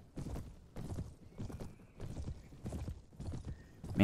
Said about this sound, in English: Man, Tiki is a tough horse, but he just can't move for crap.